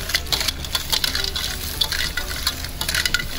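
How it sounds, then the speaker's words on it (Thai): White clams tossed in a hot pan with garlic and dried chili, giving a close, continuous sizzle with irregular scraping and stirring clatter and no voices. "ผัดให้หอยขาวคลุกเคล้ากับกระเทียมแล้วก็พริกแห้งค่ะ"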